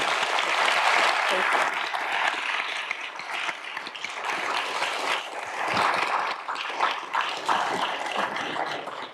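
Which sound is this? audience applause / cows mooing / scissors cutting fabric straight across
audience applause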